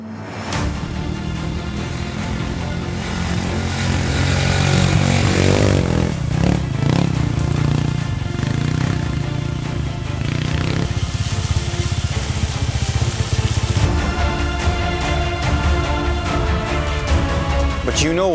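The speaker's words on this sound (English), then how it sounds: "The exhaust note is just phenomenal." Lemoto LRF 250 motorcycle exhaust heard while riding, a loud steady engine drone that swells and eases with the throttle, mixed with wind rush, continuous throughout with no talk.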